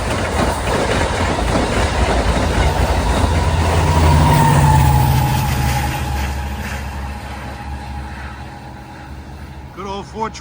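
A Long Island Rail Road commuter train approaches Queens Village station during the morning rush, its rumble steadily swelling to a loud peak of clattering wheels and engine roar, then easing as it passes, with a brief horn-like tone near the end.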